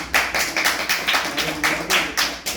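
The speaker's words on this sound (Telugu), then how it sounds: "చప్పట్లు కొట్టండి అందరూ." An audience claps in a tabla lecturer's class, a burst of hand claps at a steady, quick rhythm, fairly near and alone with no talk over it.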